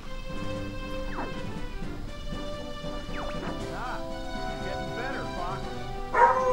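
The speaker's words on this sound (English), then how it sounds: "my dog's going crazy" A dog barks and yips excitedly in a room, several sharp, fairly close barks rising over a steady game soundtrack, with a louder bark near the end.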